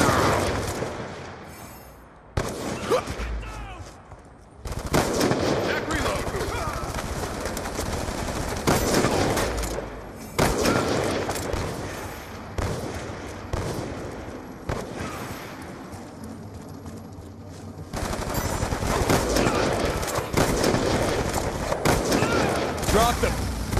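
Machine gun fire in a video game, aimed at shooting down an aircraft, rattles on in long, loud sustained bursts with brief gaps, while voices talk over the shooting.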